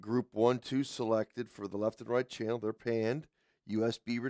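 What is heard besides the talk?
None of the usual background noises is heard.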